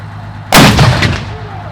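A Sherman tank's cannon fires a single black powder blank shell, a sudden loud close boom at once that rolls out into a rumbling decay.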